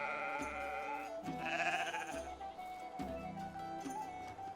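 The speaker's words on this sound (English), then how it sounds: "We got the sheep and another farm shed." Several sheep in a Medieval Dynasty farm village let out bleats one after another, close and fairly loud, roughly every second, over a faint sustained tone, with no speech.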